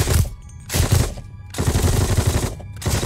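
Machine gun fire in a Band of Brothers World War II battle scene, loud sustained bursts of rapid shots broken by brief pauses.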